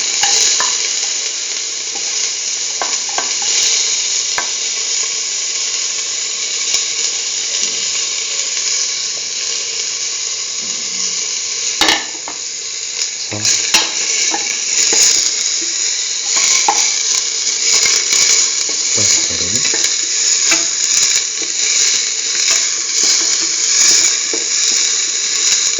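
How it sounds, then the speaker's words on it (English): Onion pieces sauté in hot oil in a pan, giving a loud, steady sizzle throughout with occasional scraping and stirring clicks. "Spread the oil in the pan. Put in the onion pieces."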